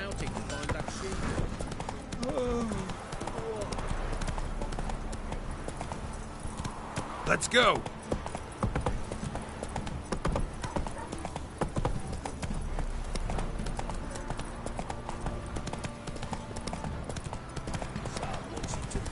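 Horse hooves clip-clop at a steady gallop in The Witcher 3: Wild Hunt, a continuous rhythmic pounding close by, with voices talking over it.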